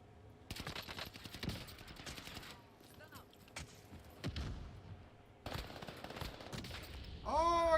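Gunfire from a prison map in an online shooter video game: dense bursts of rapid shots and explosions come in clusters, loud and close, with brief quieter gaps and a rising game sound at the end.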